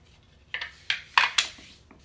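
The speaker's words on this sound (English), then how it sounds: "So we just rub it with the fingers." Fingers rub and smooth marbled fondant over a cake, making several short, close scuffing and brushing strokes in quick succession against a quiet background.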